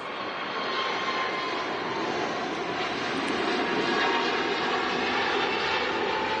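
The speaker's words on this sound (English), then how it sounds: "Another EasyJet departing here with the Sharklets" An EasyJet airliner fitted with sharklets departs Manchester Airport, its engines a steady, loud broadband roar that holds evenly throughout with no voices.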